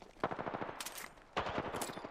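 Rapid automatic gunfire in the video game Apex Legends, two quick bursts of closely spaced shots, fairly faint and without talk.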